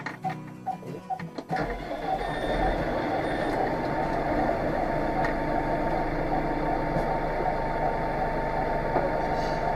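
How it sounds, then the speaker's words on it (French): A tractor engine cranks with a few rapid starter clatters, then catches and settles into a steady, rumbling diesel idle that continues to the end. "dès à présent, voilà, tu peux démarrer le tracteur"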